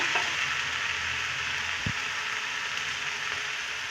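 Beaten eggs sizzle and crackle steadily in a hot pan, a loud, even frying hiss throughout with one brief clink near the middle.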